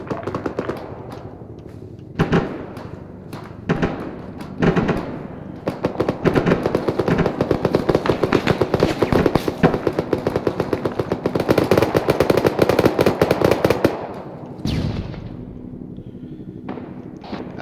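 Heavy gunfire rattles through a military operation at a compound, with scattered single shots giving way to long, dense, loud automatic bursts from about 6 to 14 seconds, then sporadic shots again.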